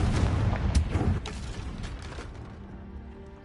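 Confringo blasting curse explosion in Hogwarts Legacy, a heavy booming blast with crackling bursts that fades into a lingering low rumble.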